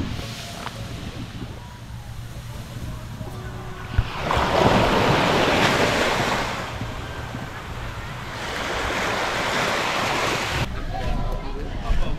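Ocean waves washing onto a beach at high tide, a steady broadband surf roar that swells in two long surges, with wind buffeting the microphone throughout.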